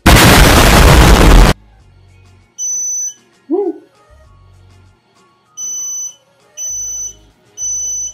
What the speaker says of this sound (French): c'est normal que ça bip parce que ça a fait la mise à jour